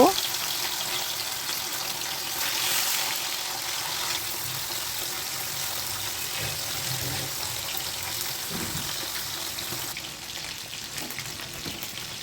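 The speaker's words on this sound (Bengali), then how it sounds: "তেলটা গরম হয়ে গেছে মাছগুলোকে দিয়ে দেব" Bhola fish frying in hot oil in a wok, a steady broadband hiss that holds for about twelve seconds. Faint low clatter and possible voices sit underneath, and the sizzle eases slightly near the end.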